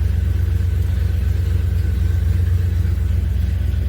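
A Chevy C10 truck engine idles while warming up, giving a loud, steady low rumble close by that stays even throughout.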